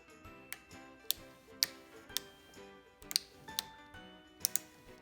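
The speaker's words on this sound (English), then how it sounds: "Secure the brackets to the banister using the ratcheting straps like this on both top and bottom sides." Ratcheting straps are tightened on baby gate brackets fixed to a stair banister, with sharp irregular ratchet clicks and ticks spaced over a few seconds, close and fairly quiet.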